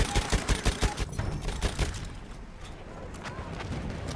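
A Chauchat machine gun fires in Battlefield 1, a rapid, evenly spaced burst of loud close shots that gives way to a dense, rumbling wash of distant gunfire and battle noise.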